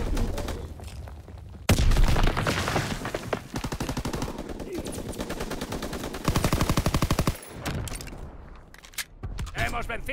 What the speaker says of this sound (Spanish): Caza listo, solicita el barrido con ametralladora.